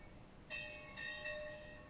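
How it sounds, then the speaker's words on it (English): Church bells ring from the United Church across the street, a faint, distant series of sustained tonal strikes that start after a brief quiet moment and continue steadily, with no talking. "We got the church bells joining in with us, folks."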